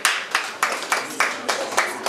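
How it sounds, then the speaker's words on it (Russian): A small audience claps for a contestant named Irina Prekrasnaya walking out at a party event, a sparse run of about eight distinct claps in an uneven rhythm, fairly close and moderately loud. "Под ваши аплодисменты."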